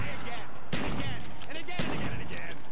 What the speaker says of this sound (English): We're just gonna have to shoot you guys up here.